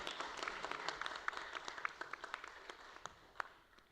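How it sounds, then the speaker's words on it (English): An audience claps for a startup pitch team at a grand finale event, a thin round of applause with distinct individual claps that gradually tapers off. "Let's give them a round of applause."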